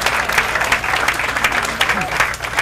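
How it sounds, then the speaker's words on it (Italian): Applause fills the hall at the Coppa Lord Byron prize-giving ceremony, with close, uneven clapping from many hands rising and falling in waves while voices murmur underneath. "Ringraziamo appunto anche il presidente Alessandro Sammartano, grazie, un applauso anche per lui."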